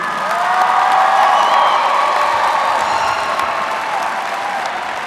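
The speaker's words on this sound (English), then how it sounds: "Let's have one more round of applause for the class of 2020" Loud, sustained applause and cheering for the Lincoln High class of 2020 at their graduation ceremony in Pinnacle Bank Arena, with a big crowd clapping, whooping and shouting that fills the arena and slowly fades.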